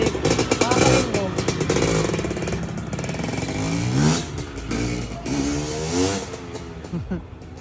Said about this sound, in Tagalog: Bagong buo ko yung motor na yun eh.